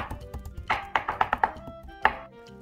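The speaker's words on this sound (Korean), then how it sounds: "다른 채소들하고 겉돌지 않고 잘 어울리게 곱게 다져줍니다." Shrimp meat finely minced with a knife on a cutting board, a quick burst of sharp, close chops followed by a pause and one final chop.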